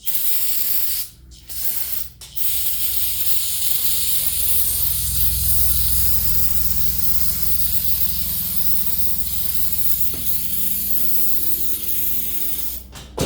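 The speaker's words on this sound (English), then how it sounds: "We're gonna take some of our trusty brake clean to clean it off again, because it evaporates super fast." Aerosol can of brake cleaner sprayed in long, loud continuous hissing bursts up close, broken by short pauses, with an occasional faint mechanical click.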